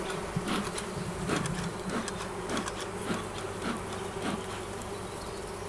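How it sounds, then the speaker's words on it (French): Alarmed honeybees buzz at their hive, wings vibrating in a dense, continuous hum with sharper passing buzzes of individual bees close by, steady and fairly quiet, with no talking. "elles donnent un message d'alerte avec les vibrations et les ailes."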